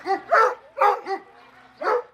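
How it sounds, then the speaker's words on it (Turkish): Dogs bark and yip in several overlapping bursts, close and fairly loud, with a brief whimpering tone between barks. "Gerekçe köpeklerin aynı anda havlaması"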